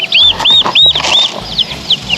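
Young Blue Slate turkeys give a rapid run of high, repeated peeping calls close by, mixed with soft thumps and shuffling.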